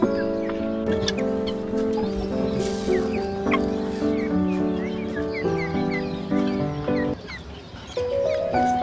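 Tiger chickens kept at home cluck and call in repeated nasal phrases close by, with several birds overlapping in a steady, busy stream.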